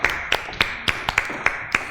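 A small studio audience claps for a guest on a Hindi-language children's quiz show, with sharp, evenly spaced claps that sound more like a few people tapping than full applause.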